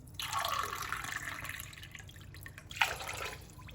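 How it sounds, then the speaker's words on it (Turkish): Water pours and splashes into a pot in two bursts, a steady broadband rush fading then returning, with no voices. "Suyumu tencereye alıyorum."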